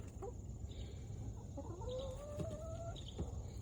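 Chickens clucking faintly in the distance, with soft drawn-out calls over a steady low background hum.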